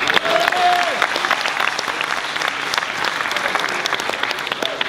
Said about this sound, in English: And a big round of applause for Wayne as well